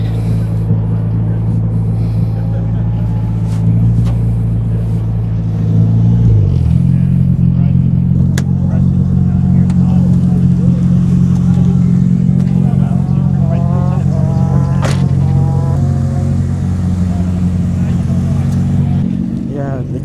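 A Mitsubishi Evo race car engine drones loud and steady at high revs while being pushed hard on track, with a brief pitch dip midway as it shifts and climbs again, heard from inside the car.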